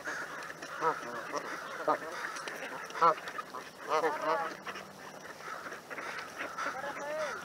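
Waterfowl in a Seattle neighborhood give repeated quacking and honking calls at moderate distance, irregular bursts over a steady outdoor background.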